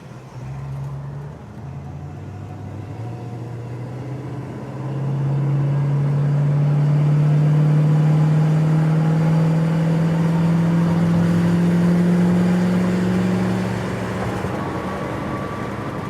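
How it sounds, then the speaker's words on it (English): A 1966 Mustang GT coupe engine pulls up to highway speed, a close, steady drone with a rising tone and constant road and wind rush that holds at cruise. "let this wonderful sweetheart of a little engine run"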